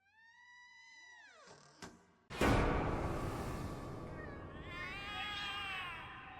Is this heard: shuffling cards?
no